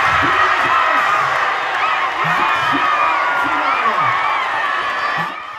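Football fans cheering at the final whistle of the Spain vs France Euro 2024 semi-final, a dense, steady roar of crowd noise with scattered shouts and whoops lasting throughout, then dropping slightly at the very end.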